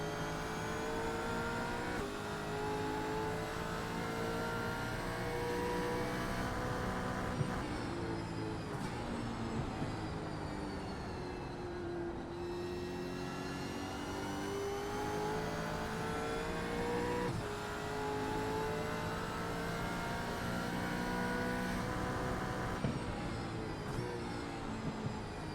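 V8 Supercar race cars lapping the Loudon oval in a racing video game, with loud, continuous engine howl whose pitch rises and falls steadily as the cars hold speed, with brief shifts in tone.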